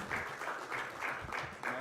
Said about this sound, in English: So please give him a round of applause as well.